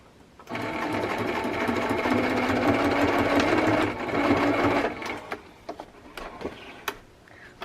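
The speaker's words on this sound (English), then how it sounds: "I'm going to have to move my candles out of the way while I'm sewing." A sewing machine stitches a traveler's notebook insert cover, a close, steady whirring run of about four seconds with a brief pause, followed by scattered clicks and handling noises.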